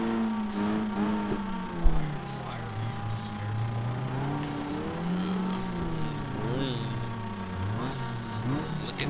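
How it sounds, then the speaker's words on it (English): Mazda MX-5 Roadster engine revving in a racing video game at Laguna Seca, a steady tonal whine rising and falling in repeated swells, with a voice talking over it. "I can rev my engine."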